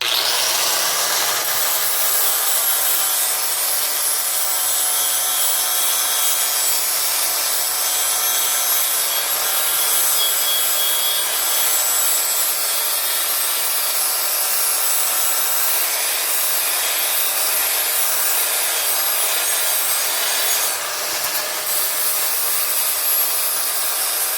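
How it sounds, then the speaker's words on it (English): An angle grinder grinds down a weld bead on metal, a loud, continuous high-pitched abrasive whine sustained close up with no pauses or voices. "So I'm grinding mostly on the weld, and then as I get down a little bit, I'm blending it into the rest"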